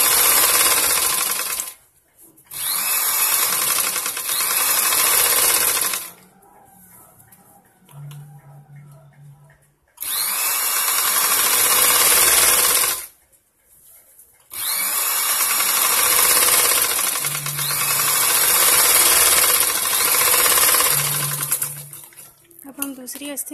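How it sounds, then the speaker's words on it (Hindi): A sewing machine runs in long bursts while double-stitching a blouse, whirring loud and fast with short pauses between runs, and a voice speaks quietly during the gaps. "डबल सिलाई लगाएंगे।"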